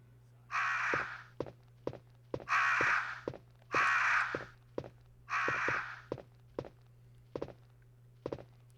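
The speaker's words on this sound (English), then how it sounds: "This guy's a whole bunch of pet crows." Repeated harsh crow caws from the indoor birds in Resident Evil on PlayStation, four loud broad bursts spaced about a second apart, with sharp thuds and footsteps between them over a steady low hum.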